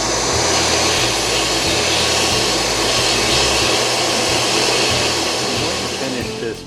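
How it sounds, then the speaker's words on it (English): A shop vacuum plugged in behind a wooden lathe runs steadily to suck up sanding dust from a pen blank, a loud continuous roaring whoosh with no talk over it. "in the rear of it I plugged my vacuum in, and it does a really good job of picking up that dust from sanding."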